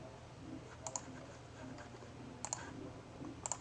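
Computer mouse clicks come in quick double pairs, three sets spaced about a second and a half apart, faint and close against a quiet room hum, with no talking.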